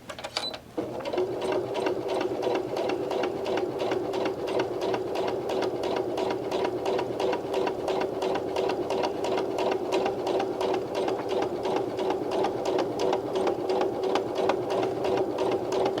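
Sewing machine stitching medical mask fabric, running steadily and loud at close range for the whole stretch, a rapid even needle rhythm after a brief start.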